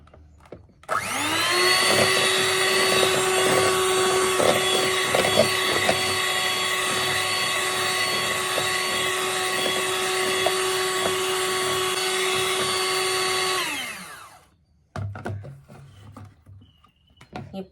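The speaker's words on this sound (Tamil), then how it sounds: "அந்த மஞ்சள் கருவை வந்து நல்லா சாஃப்டாக அளவுக்கு அடிக்கணும்" An electric hand mixer beats egg yolks for a homemade plain cake, a steady high-pitched motor whine that runs loudly for about thirteen seconds before switching off, followed by light clattering.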